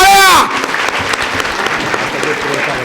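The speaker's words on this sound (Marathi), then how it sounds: "वाव जोरात टाळ्या." A crowd claps loudly and steadily for a lucky draw winner receiving a 100-gram silver prize at a jewellers' event in Pandharpur, starting right after an amplified announcer's voice cuts off.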